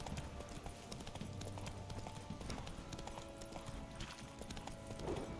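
Horse hooves clip-clop steadily in The Witcher 3 game, a faint, continuous trotting rhythm with a brief neigh near the end and little talk.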